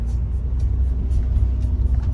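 Steady low engine rumble and road noise heard from inside a moving car, continuous and fairly loud with no voices.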